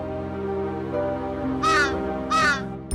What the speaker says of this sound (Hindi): अरे ये कौवा क्यों इतना चिल्ला रहा है?